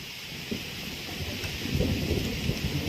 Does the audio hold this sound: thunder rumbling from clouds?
yes